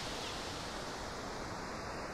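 White noise run through a low-pass filter on a modular synth imitates ocean surf, a steady, even broadband hiss with a soft wash and no breaks.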